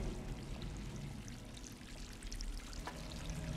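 Water pours steadily into a bucket in the video game Stray, a soft continuous splashing stream that stays faint and even throughout with a slight rise at the end.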